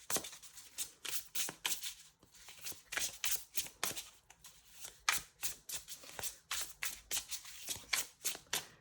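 Matte Prisma Visions tarot cards are shuffled by hand in quick repeated riffling bursts, each a crisp papery flutter separated by short pauses. The sound is close and fairly quiet, with no voices.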